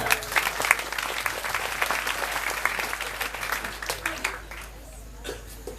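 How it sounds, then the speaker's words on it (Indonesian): A crowd at a large open gathering claps together, dense applause that is loud at first, then thins out and fades toward the end, with voices mixed in underneath. "Oke, tepuk tangan, sabar."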